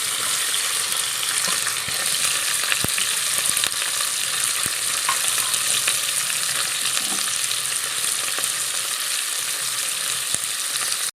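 Onion, green chili and tomato frying in hot oil for a beef curry, giving a loud, dense, unbroken sizzle with occasional faint spoon ticks, close up and steady throughout.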